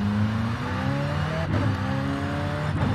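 A McLaren Senna engine in Forza Horizon 5 revs and accelerates hard, rising gear-change whines climbing then dropping with each shift, loud and close with some tire noise.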